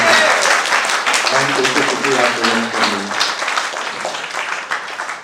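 An audience at a staged theatre production applauds loudly, the clapping strong at first and tapering off, with a voice speaking over it partway through.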